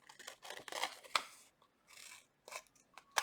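Scissors snipping through paper while trimming a handmade no-sew journal, a series of close, crisp cuts in short bursts with brief pauses between them.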